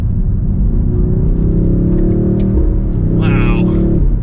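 BMW XM SUV engine revving hard through paddle-shifted gear changes, a steady loud rumbling drone with rising pitch and brief shift dips, heard from inside the cabin with voices nearby.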